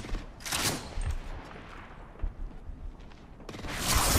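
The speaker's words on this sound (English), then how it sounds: "The enemies are shooting at me." Gunfire in the video game Apex Legends: bursts of loud shots at the start and again near the end, with scattered mechanical clicks and thuds filling the quieter middle.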